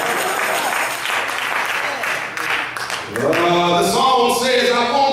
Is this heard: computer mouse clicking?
no